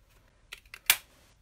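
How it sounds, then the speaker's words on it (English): A half-inch circle punch for paper buttons gives a few light clicks, then one sharp, louder snap, close and quiet, with no voice. "I've got me 1/2 inch circle punch"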